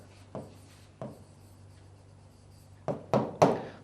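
Marker or chalk writing on a classroom board, a few short scratchy strokes with pauses between, then a quicker cluster of squeaky strokes near the end, close and fairly quiet.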